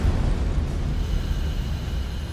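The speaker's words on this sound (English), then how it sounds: "Flames flash back into the storage tank, causing an explosion which blows off the tank lid" A storage tank explodes as welding sparks ignite vapor and flames flash back inside, a loud sustained low rumbling blast that fills the whole stretch without letup.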